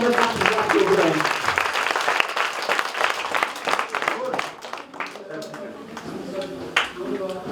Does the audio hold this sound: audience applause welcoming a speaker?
yes